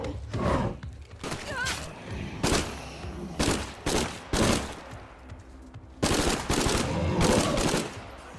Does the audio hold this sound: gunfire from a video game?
yes